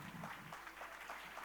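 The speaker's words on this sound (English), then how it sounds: "Can we have a big round of applause for our panel?" An audience at a women leaders' convention applauds the panel with steady, moderately faint clapping that fills the room evenly, with some crowd murmur mixed in and no clear talk over it.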